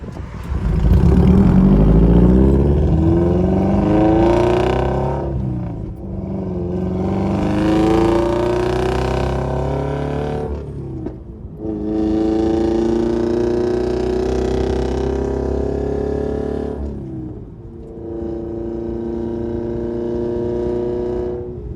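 A tuned stage 2 2013 Scion FR-S with a loud aftermarket exhaust revving close by: four long, aggressive rev pulls with rising, roaring engine pitch, each dropping back briefly between bursts, with no talking.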